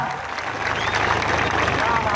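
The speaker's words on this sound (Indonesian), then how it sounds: "Tepuk tangan untuk Pak Kades, Pak Dadang ya" Applause for a village head at a labor gathering in Cirebon, a loud continuous wash of clapping from a crowd with voices mixed underneath.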